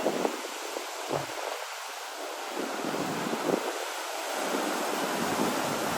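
Sea waves wash onto the shore at New Brighton beach: a steady, hissing surf roar with heavy wind buffeting the microphone and a few soft swells, faint and continuous with no speech.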